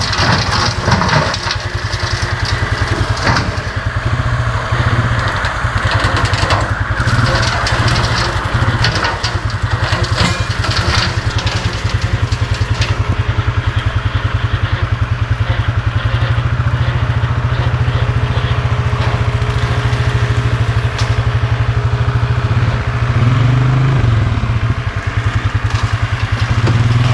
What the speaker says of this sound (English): running around on the shop with a tractor